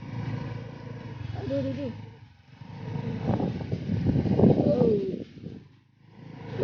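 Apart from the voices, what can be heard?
motorcycle riding on sandy beach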